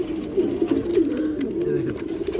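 Giribaj pigeons, including a female Tota pigeon sitting on two eggs, coo in a continuous rolling, throaty drone. The birds are close and fairly loud, with the cooing overlapping almost without pause.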